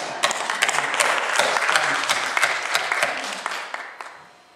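A church congregation claps together after a testimony of healing, a dense burst of many hands with sharp individual claps poking through, building and then tapering off toward the end.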